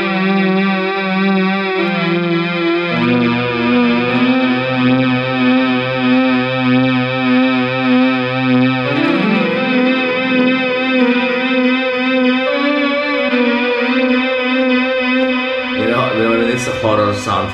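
A Roland RS-09 organ/strings keyboard plays sustained chords through heavy distortion with a chorus-like shimmer, giving a thick classic rock tone that shifts between chords, loud and close with no talking.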